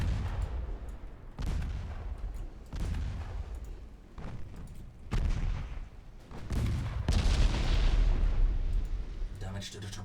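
Heavy naval guns boom in repeated broadside salvos during a battle in Ultimate Admiral Dreadnoughts, each blast near and loud with rumbling decay, a sustained roar building toward the end.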